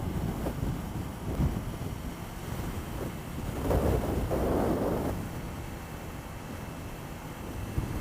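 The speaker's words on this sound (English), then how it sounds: "Right now our winds are about 31, 40 miles an hour today, somewhere in there." Strong wind buffets the microphone while riding a Kawasaki Ninja 400 motorcycle in 31 to 40 mph gusts, a continuous loud roaring rush that swells midway, with engine rumble beneath.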